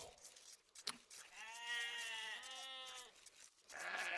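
Sheep bleat in a livestock-herding video game, a clear wavering call repeated in a loud, close run over a background of game sounds.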